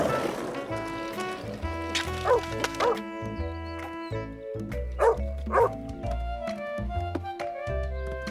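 Cartoon dogs bark, yip and whimper in short playful bursts over light background music, with some voice activity mixed in.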